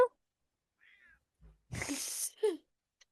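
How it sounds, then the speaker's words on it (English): A few short, quiet cat meows and faint mews scattered across near-silence, with a small breathy sound in between. "Meow"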